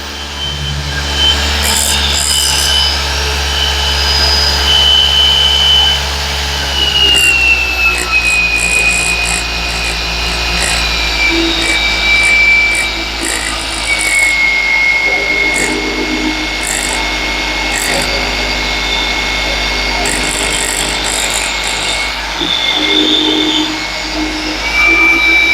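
A Maxshine M21 Pro paint polisher motor runs steadily and loudly throughout with a constant hum and whine, pitch shifting slightly as the speed changes.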